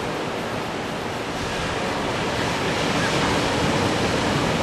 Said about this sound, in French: les belles vagues évidemment qui sont toujours présentes